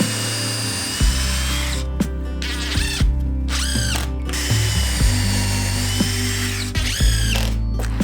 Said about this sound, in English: So we're gonna glue that and screw them into these studs